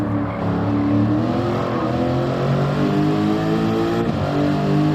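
A race car engine climbing through the gears, loud and close, revs rising in repeated sweeping pulls with no talk over it.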